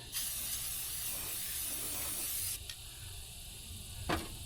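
A spray gun lays down a thick coating in a woodshop with a steady, close hiss. The hiss stops after about two and a half seconds and is followed by two short spray bursts, with no one talking.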